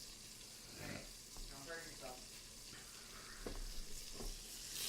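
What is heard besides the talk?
okonomiyaki pancake sizzling in a pan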